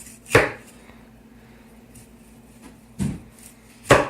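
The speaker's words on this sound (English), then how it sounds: "Next we're gonna dice it because who wants undiced onions?" A knife chops through an onion on a board in three sharp, separate strikes with pauses between them, close and clear with no talking.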